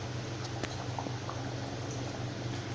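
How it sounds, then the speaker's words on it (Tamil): An egg kurma curry bubbles steadily in a pan, a soft continuous simmer with faint pops and drips rising from the liquid throughout, close and fairly quiet with no talking. "இப்போ பாருங்கள், நல்லா கொதிச்சிட்ருக்கு."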